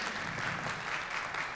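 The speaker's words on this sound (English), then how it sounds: "Big round of applause" Applause from a business conference audience thanking a presenter on stage: a dense, even wash of clapping from many people, fairly quiet and distant throughout the short stretch.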